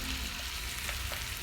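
A T-bone beef steak cooking in a pan over low heat gives a dense, continuous sizzle with faint pops, close and loud throughout.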